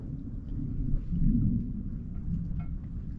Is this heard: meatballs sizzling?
no